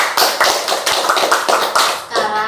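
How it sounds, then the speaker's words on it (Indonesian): A small group claps during a group counseling session, a brief, close burst of dense hand clapping that fades out at the end. "Sekarang kita beri aplaus untuk"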